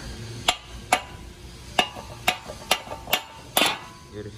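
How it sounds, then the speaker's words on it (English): Eight metallic hammer taps at an uneven pace on a Toyota pickup brake backing plate, each a bright ringing clink, close up with no talking. "I'll probably hammer this out"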